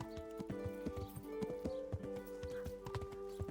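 A horse gallops in Kingdom Come: Deliverance, its hooves striking in a quick, steady clip-clop rhythm that stays close and clear over a quiet game backdrop, with no voices.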